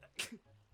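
A single short sneeze from a person, quick and fairly faint, with a little murmur after it.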